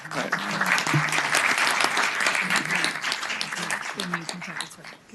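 Applause breaks out in a Virginia Senate committee room, many hands clapping in a dense, sustained patter that fades slightly toward the end, with voices mixed in underneath.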